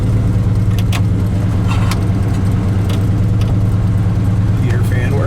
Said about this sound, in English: So we're still on fast idle and we'll let that go for a little bit here.